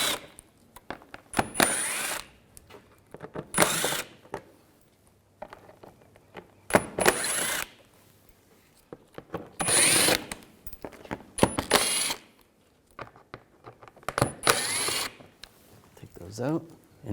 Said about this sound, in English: I'm going to use a T25 socket. Take these screws out on the sides.